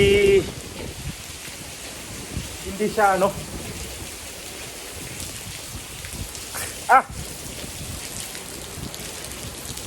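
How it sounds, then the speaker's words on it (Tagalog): Steady heavy rain hisses throughout during a typhoon in Spain, with a brief voice speaking near the start and a short bark-like sound later. "bagsak ang ulan ha"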